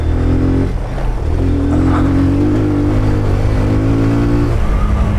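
A Kawasaki Z125 small motorcycle being ridden, its engine droning close and loud with steady revs that dip briefly and climb again as the throttle changes.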